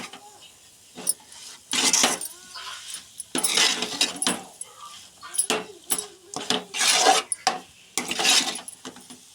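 Mango coconut chutney being mixed in a bowl, with repeated scraping and clinking bursts of a utensil against the bowl coming in irregular strokes, close and fairly loud, separated by short quiet gaps.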